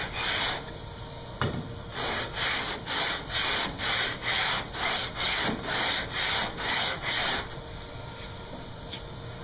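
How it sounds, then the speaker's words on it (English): A hand scraper is drawn along a wooden guitar neck in about a dozen even, rhythmic strokes, each a close, dry rasping swipe, followed by a short quiet pause. "we can continue to use the scraper on the back of the neck to finish that out"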